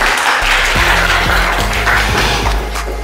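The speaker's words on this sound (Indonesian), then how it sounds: "tepuk tangan untuk Kak Raden" A classroom of students applauds for a guest, giving loud, continuous clapping that stays close and sustained throughout, with scattered individual claps standing out inside the steady roar.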